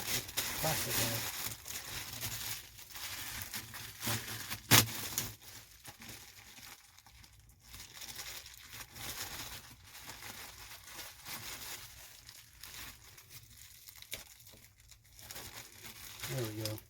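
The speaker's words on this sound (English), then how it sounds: "Plastic bag." A plastic bag crinkles and rustles in bursts while a Shark Navigator Pet Pro Zero-M ZU60 vacuum is unboxed, close and fairly quiet, with a voice talking at times.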